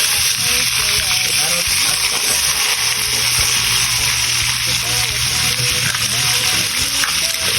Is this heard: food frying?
yes